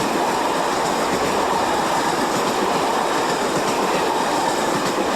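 Portuguese Railways class 2600 electric locomotive train running, a loud continuous rumble and rattle of rolling wheels with faint rhythmic clatter, heard close and alone.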